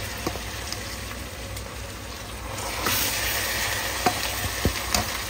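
Scrambled shark pieces fry in cold-pressed oil in a pan, a steady close sizzle and hiss with a few sharp pops and stirring scrapes.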